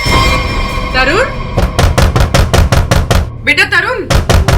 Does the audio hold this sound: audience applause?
no